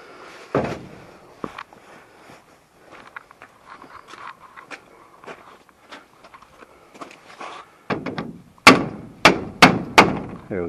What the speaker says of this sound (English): tap it with the hammer.